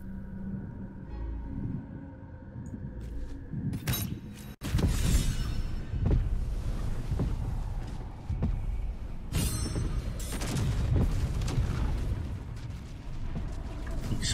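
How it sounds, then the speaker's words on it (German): Repeated booming explosions in the video game Baldur's Gate 3, several loud broadband blasts with rumbling tails, one after another over a continuous rough roar. "Explosionen."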